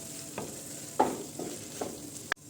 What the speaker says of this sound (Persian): نصف قاشق چایخوری زردچوبه، نصف قاشق چایخوری پودر پاپریکا و کمی با پیاز تفت میدیم